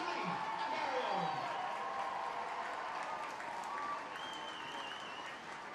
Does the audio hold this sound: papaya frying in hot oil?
no